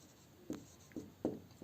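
Chalk or marker strokes on a board during an accounting lesson, with four short, distinct scratching taps spaced about half a second apart, close and fairly quiet, with no talk over them.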